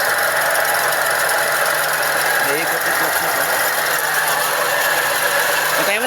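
A Toyota Vios engine runs with a loud, harsh, continuous metallic grinding and whine, suspected from the compressor pulley, heard close up and steady throughout.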